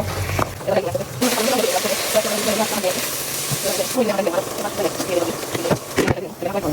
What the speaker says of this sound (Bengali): লাড়িয়ে আমি গুড়িয়ে দিব আরো আমার মাংস